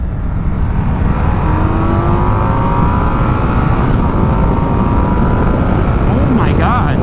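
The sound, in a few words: Indian Scout 101 1250cc Speed Plus engine revving to redline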